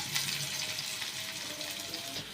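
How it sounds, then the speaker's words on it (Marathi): Chopped onion frying in oil in a pan gives a steady, soft sizzling hiss throughout, close but fairly quiet, with no talking. "कांदा ब्राऊन होईस्तोवर तळायचा."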